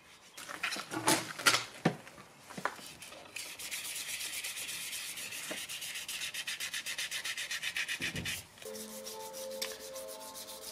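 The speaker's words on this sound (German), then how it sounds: "dann schleife ich die Felgen mit ganz feinem Schmirgelpapier an." Car wheel rims on a VW T4 Transporter being hand-sanded with very fine sandpaper after cleaning, with scattered knocks and handling noises, then a long, even stretch of rhythmic rubbing strokes, close and moderately loud.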